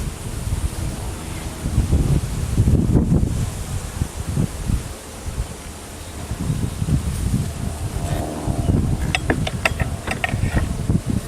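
A breeze blows outdoors beside an open beehive during an inspection, giving a steady rushing, buffeting rumble with leafy rustling and a few faint clicks near the end.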